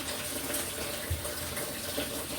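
Kitchen tap water running steadily while vegetables are washed in the sink, a continuous close splashing hiss with no talking.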